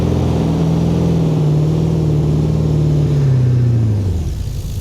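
Dodge Ram TRX 1500 pickup engine in BeamNG.drive, a loud steady drone climbing and then dropping away as the truck accelerates, heard alone.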